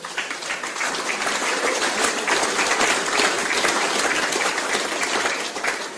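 A crowd at a sportsmen's night at a bowls club claps in a loud, dense round of applause. It holds steady for the whole stretch and no one speaks.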